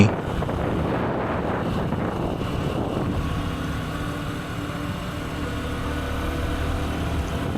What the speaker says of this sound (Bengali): আমাদের উষাচরের টিমের সকল সদস্যরা বাইকে করে চলেছি